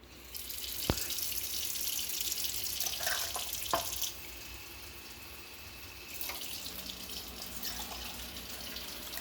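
Water runs steadily from a kitchen sink tap, a close, continuous hiss that shifts in tone as the flow changes partway through, with a few faint clinks and no talking.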